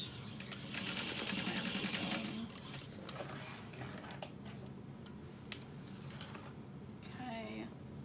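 A sewing machine runs a short back stitch while making a Harriet pattern by Swoon Sewing Patterns: a quiet, rapid whirring burst of needle strokes, a pause with light handling clicks, then a second brief run near the end.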